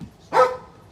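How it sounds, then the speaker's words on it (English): A dog gives one short, sharp bark at close range, loud and abrupt, followed by quiet. "There's no need to bark."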